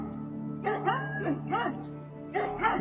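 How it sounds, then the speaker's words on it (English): Several dogs behind gates at the end of a cul-de-sac bark in short bursts of yips and bow-wows, fairly close and loud over a low steady hum. "Dang it, they got a bunch of dogs."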